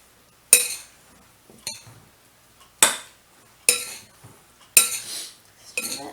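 A spoon stirring a rice and meat mixture for beef stuffed cabbage rolls in a bowl: about six sharp, separate clinks and scrapes against the bowl at irregular intervals, near and clear with quiet gaps between.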